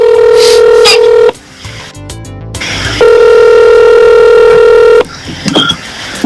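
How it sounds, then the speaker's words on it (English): A telephone call is placed: a steady dial tone, then a quick run of touch-tone dialing beeps, followed by a loud, sustained ringback tone, all close and clear with no talking. "Let me just call one big man here."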